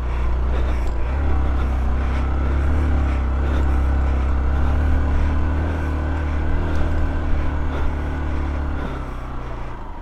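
An off-road vehicle with a badly damaged clutch climbs a hill in low gear, its engine giving a deep, steady drone with a slight rise and fall under continuous rumble.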